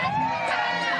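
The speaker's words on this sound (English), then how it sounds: "Yeah, nice crowd out here today." An outdoor crowd at a live Zip Trip street event, a brief burst of lively mixed voices and cheering close by, with talk blended in.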